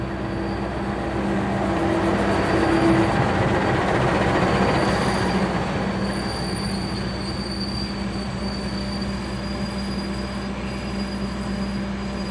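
An Indonesian passenger train rumbles steadily into a station, with squealing wheels and faint metallic tones over a continuous loud low roar; no voices.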